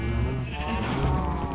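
A cow in the Minecraft video game gives one loud, drawn-out moo lasting over a second, with no voices.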